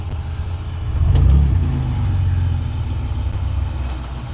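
A car engine revs hard while climbing over the Moonrocks rocky speed bumps, a loud, near surge that peaks early and then holds at a rough, steady drone.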